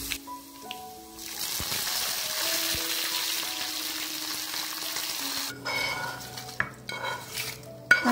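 Tempering for tomato pickle sizzling in hot oil in a pan while a spoon stirs and scrapes, with sharp clinks of metal on the pan; the steady sizzle carries throughout, with no one speaking.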